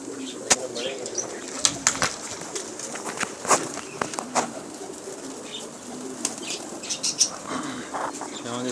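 Fancy pigeons flap their wings in repeated sharp bursts close by, with soft cooing and light shuffling around them and occasional voices underneath.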